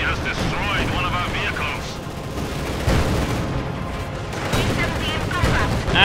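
Anti-tank guns fire in the World War II strategy game Company of Heroes 2, with heavy booms and crackling battle noise layered under a commentator talking over the action.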